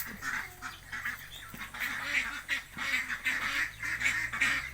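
Several ducks released to forage among culantro plants quack and honk repeatedly at close range, the rhythmic calls overlapping in uneven bursts.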